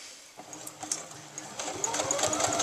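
A sewing machine starts up and stitches a lining to a front and back bodice at a 5/8 inch seam, rhythmic needle clicks building into a steady, close, rapid whirr.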